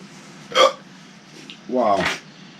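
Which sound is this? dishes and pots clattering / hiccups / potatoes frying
hiccups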